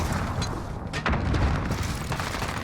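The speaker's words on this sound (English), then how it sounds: "Grenades going out." Grenade explosions in a competitive online shooter match, heard as a steady dense wash of booming blasts and gunfire-like crackle that runs for the whole stretch, with heavier bursts near the middle.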